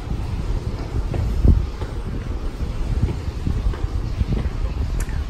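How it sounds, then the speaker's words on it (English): Wind gusting through an outdoor courtyard in Hawaii, buffeting the microphone with a constant low rumble and rustle that swells briefly, with no clear voices. "So if the wind isn't too bad, which it isn't right now, hopefully that will work out."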